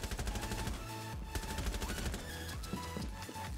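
Rapid bursts of automatic gunfire and scattered single shots from Rainbow Six Siege on PS4, loud and continuous across the whole stretch with dense overlapping reports and no talk.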